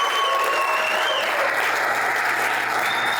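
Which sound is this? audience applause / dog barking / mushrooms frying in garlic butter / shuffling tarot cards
audience applause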